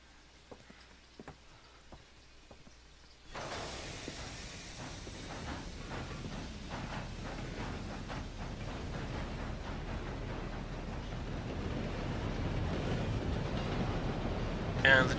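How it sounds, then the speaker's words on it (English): A steam train runs in Red Dead Redemption 2, starting up with a broad hissing rush and settling into a steady rolling chug that grows slightly louder and continues alone. "And the train goes whoop whoo."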